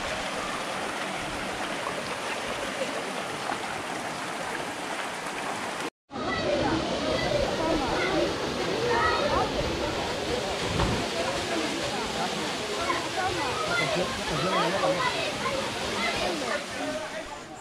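The Tizi Nberber waterfalls in Béjaïa, Algeria, rush in a constant broadband roar, briefly cut off near six seconds and then returning even louder, with a person talking over the water.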